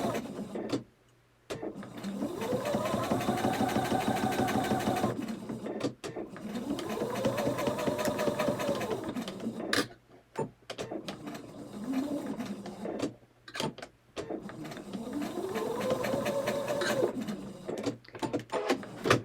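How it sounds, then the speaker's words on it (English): A sewing machine stitches a quilt block in sustained runs of rapid mechanical whirring and needle clatter. The motor rises and falls in pitch, with brief pauses between the runs, close and steady. "I'm going to hold everything down flat and stitch along the line."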